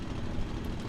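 A Messerschmitt Bf 109G-6 engine catches and runs in Microsoft Flight Simulator, a dense, rumbling roar close by and steady.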